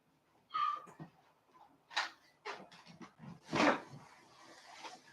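A dog barks, yelps and screams in several sharp, irregular bursts, close and loud, with quieter whimpering between the outbursts.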